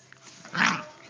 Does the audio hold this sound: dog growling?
yes